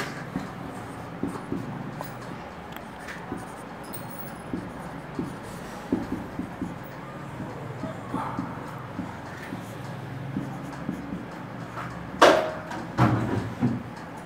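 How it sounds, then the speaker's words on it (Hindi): Hand writing on a board in a classroom, a string of faint scratchy strokes and taps spread across the stretch, with a couple of louder knocks near the end and no clear talking. "ठीक है, लो वापस लिख देता हूँ।"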